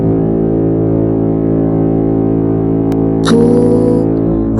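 A very loud trumpet-like horn blast holds one steady, sustained tone for several seconds, booming and unbroken, with no voices.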